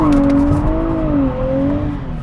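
A 2023 Nissan Z rear-wheel-drive sports car with a six-speed manual transmission pulls away, its engine note rising and falling in a steady, loud drone from inside the cabin.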